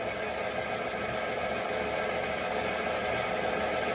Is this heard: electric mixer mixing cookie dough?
yes